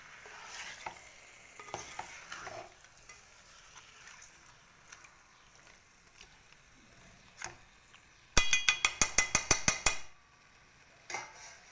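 Fish curry (pulusu) stirred in a pan with a utensil over a low sizzle: soft scattered scrapes, then a quick run of about eight sharp rhythmic scraping strokes near the end, close and fairly loud.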